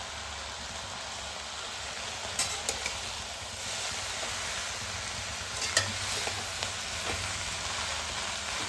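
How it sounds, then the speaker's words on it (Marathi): Fresh fenugreek leaves (methi) stirred in a kadai give a steady soft sizzle and rustle, with occasional sharp scrapes of the spoon against the pan. "त्यातला मेथीला तुम्हाला चांगल्या प्रकारे मिक्स करून घ्यायचं"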